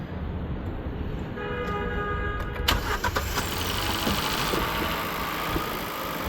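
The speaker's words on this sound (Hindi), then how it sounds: "गाड़ी स्टार्ट करने जा रहे हैं" A KIA Seltos, over six years old with low mileage, starting up after a full service: a starter crank followed by the engine catching and settling into a steady idle, close by with no talk.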